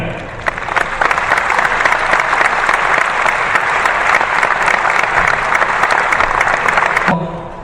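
A large circus audience at the Monte-Carlo International Circus Festival applauds in a sustained, dense burst of clapping that stays loud throughout and stops abruptly near the end.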